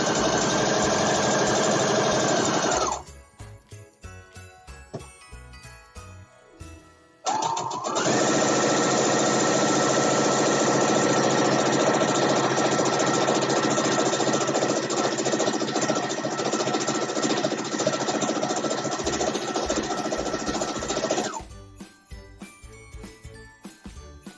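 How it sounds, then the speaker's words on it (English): A sewing machine runs steadily for about fourteen seconds at a loud, even whir, framed by quieter stretches of clinking and mechanical handling before it starts and after it stops. "the sewing machine is actually quieter than me"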